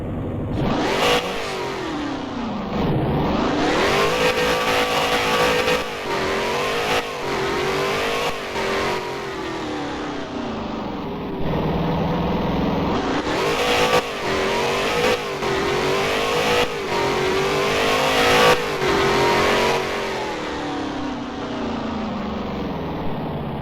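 Car engine in a Roblox Studio driving test, loud and close, revving repeatedly as the pitch climbs through gears, drops sharply, then climbs again, continuous throughout with no voices.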